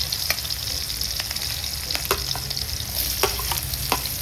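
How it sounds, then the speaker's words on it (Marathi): Garlic and onion fry in a pan with a loud, continuous close sizzle, broken by scattered crackles and spatula taps as the pieces are stirred. "त्यामध्ये तर कांदा चांगला परतवून घेतो"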